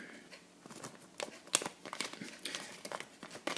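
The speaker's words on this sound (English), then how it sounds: "And this side we're going to take a single flap and fold it over." Origami paper is folded into a three-pointed star box, with soft, close crinkles and sharp little creasing snaps coming in quick irregular bursts.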